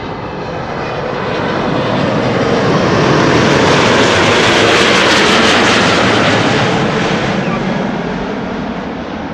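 A United Boeing 777-200 arriving at Amsterdam Schiphol from San Francisco roars past as a loud, broadband jet engine rumble that swells to a peak mid-pass and eases off, with no talk over it.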